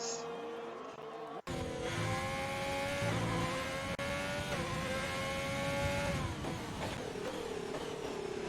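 F1 race cars scream around the Spa circuit in a racing video game, a sustained high engine whine climbing and shifting through gears, loud and continuous with a brief cut partway through.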